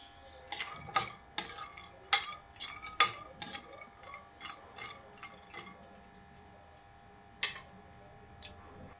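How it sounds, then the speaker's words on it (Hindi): Almonds being roasted in desi ghee in a kadai over a medium flame, stirred with a utensil that scrapes and clinks against the pan in irregular close strokes, then only occasional taps. "गैस की लो को मीडियम रखकर बादाम को भून लेंगे।"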